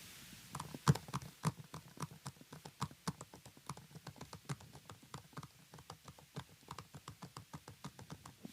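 Fingers typing on a computer keyboard, a continuous run of quick, crisp key clicks in an uneven rhythm with a few heavier strokes, close and clear in a quiet room.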